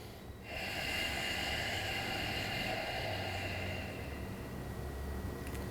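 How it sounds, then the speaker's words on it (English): Ujjayi breathing drawn in through the nose with the mouth closed during a yoga flow, one long soft whispering hiss that swells and holds, heard close and alone. "I want you to invite a Ujjayi breath."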